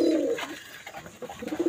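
Domestic pigeons in a breeding loft, a close, loud coo at the start followed by softer, fainter cooing and rustles from the birds.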